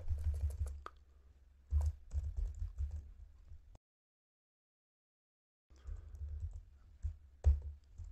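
Code being typed on a computer keyboard, quiet close clicking in uneven bursts, with a couple of heavier keystrokes and a silent gap of about two seconds in the middle.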